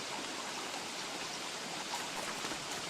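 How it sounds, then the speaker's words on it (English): Steady heavy rain in the survival game Don't Starve: Reign of Giants, a dense continuous hiss of falling water with scattered drop patter, loud and unbroken with no voices. "the rain in this, Reign of Giants is brutal"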